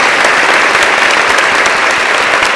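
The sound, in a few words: audience applauding for their teachers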